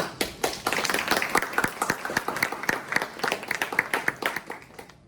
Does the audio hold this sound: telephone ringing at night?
no